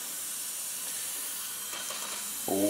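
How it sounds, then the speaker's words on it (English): Steady, loud hiss of brake cleaner sprayed from an aerosol can onto the front wheel hub of a Toyota Corolla during a wheel bearing replacement. It runs unbroken throughout, and a low tonal sound enters briefly at the end. "Once that is finished, of course, the brake clean, who can forget that?"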